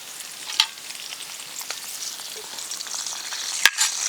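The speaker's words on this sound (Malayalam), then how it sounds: "എണ്ണ ചൂടായി വരുന്നുണ്ട്. ഇതിലേക്ക് നമുക്ക് കറിവേപ്പില ചേർത്ത് കൊടുക്കാം." Curry leaves hitting hot coconut oil in an iron pan, a soft steady hiss of frying with a few crisp pops and one sharp crackle near the end.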